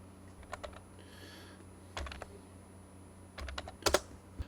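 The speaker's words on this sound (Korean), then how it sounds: "RENAM이 입력하고 엔터 클릭." Several keystrokes tapped on a computer keyboard in short irregular bursts, ending with a sharper press of the enter key, close and fairly quiet with no talk.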